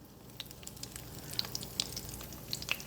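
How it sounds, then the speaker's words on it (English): Tilapia fillets sizzling in hot oil in a pan, a steady close crackling hiss with scattered sharp pops and spits. "If it starts to sizzle, you know that you've got it hot enough."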